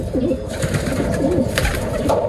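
A racing pigeon coos close by, repeating low, rolling coos in a steady rhythm, with no talking.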